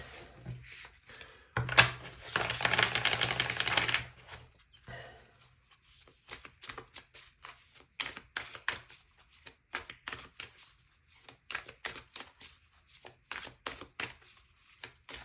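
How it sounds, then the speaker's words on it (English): Tarot cards being shuffled close by: a loud riffling burst for a couple of seconds, then a run of quick, soft slaps and taps as they settle. "Let's shuffle these cards."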